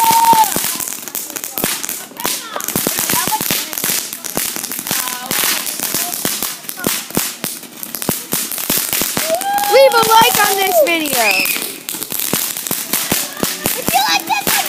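Fourth of July sky fireworks and firecrackers pop and crackle in dense, rapid bursts, with sharp explosions close by throughout while people cheer and talk.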